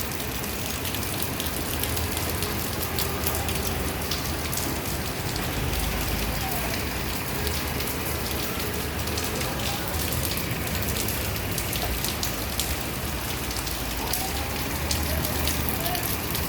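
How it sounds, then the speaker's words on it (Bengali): Steady rain pours down at a roadside spot on a congested bypass in Bogura, a dense continuous hiss of drops drumming on surfaces without pause, with traffic noise faint beneath it. "রহমতের বৃষ্টি"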